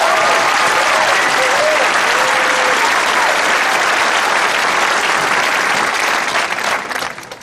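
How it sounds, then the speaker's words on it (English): A large audience at the 2012 Triway High School graduation ceremony breaks into a loud, dense round of applause with scattered whistles and cheers, holding steady before tapering off at the end. "Please join me in giving Steve Kaufman a round of applause."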